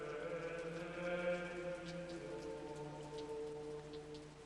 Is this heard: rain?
yes